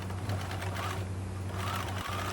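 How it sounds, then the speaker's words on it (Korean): A sewing machine stitching both sides of a sleeve, with a steady close mechanical whir and a rapid needle rhythm that runs without pause. "소매의 양 사이드를 박음질합니다."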